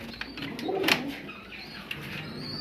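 Soft, low pigeon cooing rises briefly near the middle over a quiet outdoor background, with a faint tick or two.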